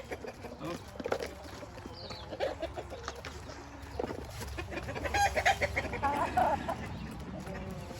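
Native chickens cluck and murmur close by in a backyard coop in New Zealand, with occasional louder squawks, while people chat and laugh over them as eggs are gathered.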